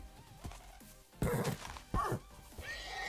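A video game horse gives a couple of loud, close whinnies in short bursts, with quieter snorts and rustling in between.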